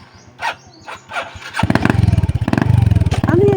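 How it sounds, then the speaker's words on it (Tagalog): A Yamaha Jupiter motorcycle engine misfires, first sputtering in irregular coughs, then catching into a loud, uneven, chugging run close by while voices talk. "Ano yan, Jupiter? Palya-palyahin yung motor na yan?"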